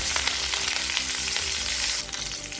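Mustard seeds, asafoetida and curry leaves in hot oil and ghee sizzle and crackle for a South Indian tempering in bisibelebath, a steady close frying hiss with small pops and no talking.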